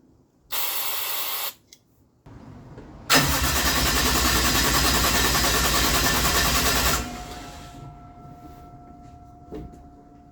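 A 1JZ engine in a Chevy Nova is cranked by its starter during a first test fire, with a short burst of cranking, a pause, then a longer loud stretch of steady whirring that never catches and stops.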